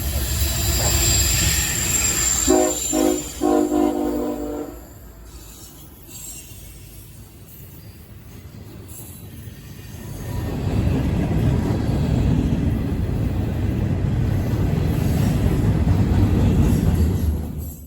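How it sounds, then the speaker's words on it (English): Freight train L-150 passes up close hauling cars of scrap metal, a loud continuous rumble of wheels and cars with a brief metallic squeal early on, easing midway and then swelling again before fading at the end. "Finally, I saw a new train to me, L-150, a Monday through Friday turn that grabs scrap metal from D.C."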